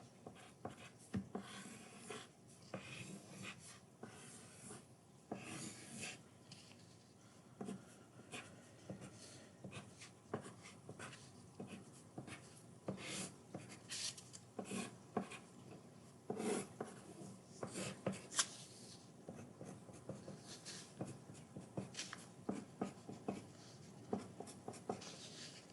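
A pen or pencil draws a diagram on paper during a lecture about seasons, with intermittent close scratching strokes and taps spread over a long stretch, no talk.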